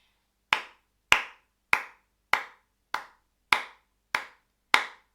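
Eight single hand claps ring out alone at an even, steady pace to a 2/4 rhythm. Each is crisp and sharp with a brief decay, separated by clean silence.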